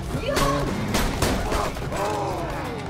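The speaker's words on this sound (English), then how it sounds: "starting to like the shotgun." Shotgun blasts in the video game Borderlands 2, several sharp booming shots in quick succession mixed with game voices and groans, loud and close.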